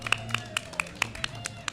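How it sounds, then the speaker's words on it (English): Sparse, evenly spaced claps from a small audience at a main-stage session of a sports collectors convention, about eight sharp hand claps over a low steady hum with a faint voice underneath. "can we give a round of applause?"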